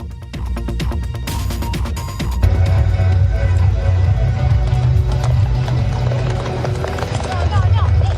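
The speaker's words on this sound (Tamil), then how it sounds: "இத்தாலியில் ராணுவ அணிவகுப்பு ஒத்திகையின் போது வெடி சத்தத்தால் மிரண்டு போன குதிரைகள் தப்பி ஓட்டம் பிடித்த காட்சிகளே இவை" Horses bolting at a military parade rehearsal in Rome, frightened by a blast: dense clattering hooves at a run, loud and continuous, with a sharp burst early on and crowd and traffic noise around.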